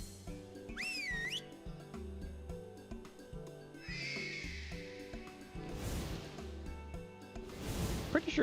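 In the Final Fantasy XIV video game, a whistle blown in-game produces a rising whistle followed by a loud horse whinny, over looping background game music with whooshing effects near the end.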